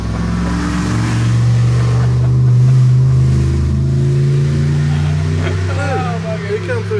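A motorcycle with its mufflers removed rumbles past with a loud, deep drone that swells and fades, while people talk nearby.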